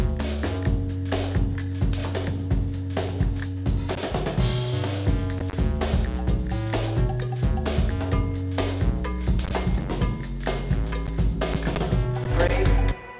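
Dense ambisonic music mix with a steady, prominent bass line holding sustained low notes under moving instruments and percussive hits, loud and continuous throughout with no talking.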